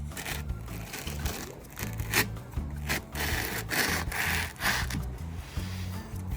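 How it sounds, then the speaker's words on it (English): Close, steady rubbing and scraping of a sharp knife sawing through a foam pool noodle, with repeated strokes and a low hum underneath. "I'm gonna cut this noodle and use it as armor with a knife"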